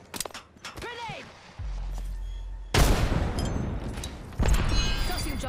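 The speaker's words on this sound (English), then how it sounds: "Grenade!" In a video game, gunfire cracks out in a quick string of sharp shots, then a grenade explodes in a loud, booming blast with a rumbling tail, followed by another heavy burst as voices talk over it.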